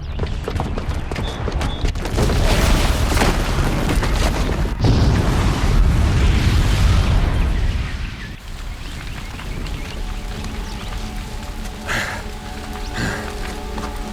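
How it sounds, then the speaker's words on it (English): A bomb booby trap goes off in Horizon Zero Dawn with a long, loud, rumbling roar of explosions and crashing debris. It fades after several seconds into a lower wash of noise with scattered later thuds. "the booby trap on the bomb downstairs is gonna get set off"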